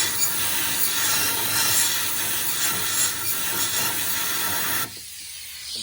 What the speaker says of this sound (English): Then I'll take my compressed air